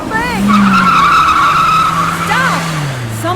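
A car in a radio drama skids, a loud sustained tire squeal lasting a few seconds with a rising-and-falling whine, while voices shout over it.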